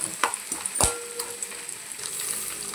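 Cumin, mustard seeds, peanuts and garlic cloves fry in hot oil with a steady sizzle, broken by a few sharp crackles and pops near the start.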